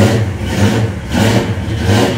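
A classic car's engine revs loudly in repeated surges, rising and falling roughly every second over a steady low rumble, close by with no talk.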